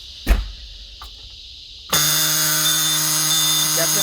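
Emergency alarm on a bus, a loud continuous electronic buzzing tone that starts abruptly and holds steady, after a brief thud and near silence.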